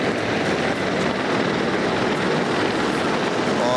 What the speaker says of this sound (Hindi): गनशिप हेलीकॉप्टर्स की फॉर्मेशन।